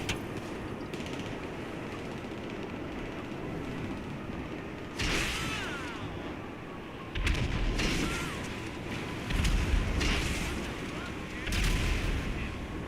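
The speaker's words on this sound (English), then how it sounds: "Hey, is that a 50 cal I'm hearing?" .50 caliber gunfire in GTA 5 Online, heavy booming bursts at a distance that recur every couple of seconds over a steady background rumble, with no talk.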